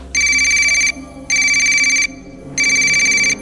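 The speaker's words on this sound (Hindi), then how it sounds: "उसका फोन बजा" A telephone rings loudly and close by in three long electronic trill bursts separated by short gaps, with a faint low background underneath.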